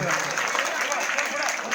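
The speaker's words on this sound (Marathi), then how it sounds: "जरा जोरदार टाळ्या वाजवा" A crowd claps in a dense, continuous burst of applause at a school event in Mhakve, Kagal, Kolhapur, fairly loud and steady throughout.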